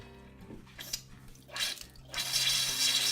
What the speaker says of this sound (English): I'm controlling getting that water out of any of these controls